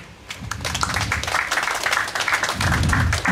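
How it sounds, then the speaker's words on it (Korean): Applause from an elderly association's crowd at an outdoor protest rally, a steady wash of clapping that runs the whole stretch, strongest near the end, with some low crowd murmur underneath. "여러분 큰 박수로 네"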